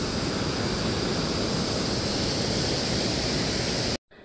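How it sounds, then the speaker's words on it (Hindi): Waterfall near the Rishiganga river at Badrinath, a loud, dense, steady roar of falling water that fills the whole clip before cutting off abruptly near the end. "ऋषिगंगा का पानी बढ़ गया है और झरना भी फिर से आना शुरू हो गया है"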